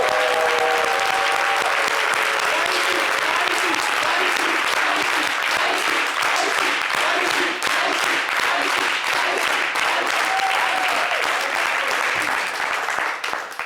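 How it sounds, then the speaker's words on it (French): Sustained, dense applause from a live studio audience on a Côte d'Ivoire show, steady and loud for the whole stretch, with faint voices poking through near the start. "Alors, je vous demande d'applaudir."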